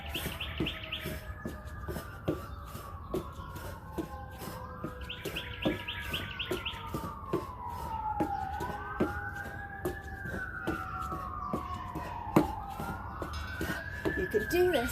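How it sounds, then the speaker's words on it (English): Wailing sirens rise and fall in long sweeping cycles, repeating steadily at a moderate distance, layered with faint electronic chirping tones and a quiet background hum. "There's the sirens."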